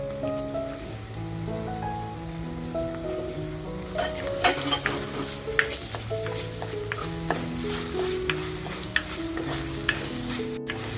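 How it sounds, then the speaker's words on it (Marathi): Tomato going into a pan of softened onion sets off a soft frying sizzle with scattered crackles and stirring clatter, heard under steady background music at moderate volume. "आता जो आपण टोमॅटो कापून घेतलाय तो टोमॅटो टाकून घेते."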